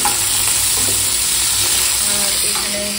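Vegetable stalks fry with panch phoron five-spice in a pan, a dense, loud, steady sizzle close by with occasional stirring scrapes underneath.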